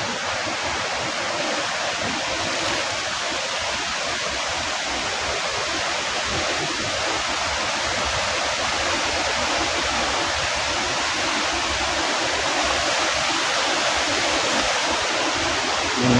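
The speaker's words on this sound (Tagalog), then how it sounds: "Yan, oh, dun na yung ilog." A river at Malabsay Falls in Isarog Natural Park rushes steadily below a forest trail, a dense, continuous roar of water holding an even level throughout with no voices over it.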